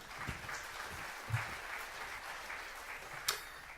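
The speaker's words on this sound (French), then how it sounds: "une vague d'applaudissements enthousiastes s'abattit sur Kutaro" Steady crowd applause from an enthusiastic audience in the Puppeteer video game, a continuous wash of clapping at moderate level with a few louder accents and no talk.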